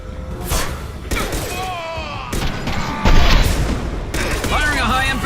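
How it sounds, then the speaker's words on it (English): Heavy weapon fire in Mass Effect: Legendary Edition, with several loud booming shots and impacts spaced a second or so apart, over battle noise and intermittent voices. "Firing a high-impact shot!"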